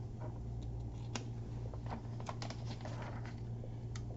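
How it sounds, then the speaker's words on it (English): Keys tapped on a computer keyboard while editing a PowerPoint slide, a quick irregular run of soft clicks over a steady low hum, close and fairly quiet. "Hit the delete key on the keyboard, add a space, and then add the word services in its place."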